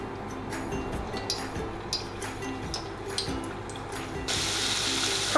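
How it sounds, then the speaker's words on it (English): Floured pieces frying in hot vegetable oil for Japanese nanbanzuke, giving a steady close sizzle and bubbling that grows louder and hissier near the end, with no talking. "So let's start frying them."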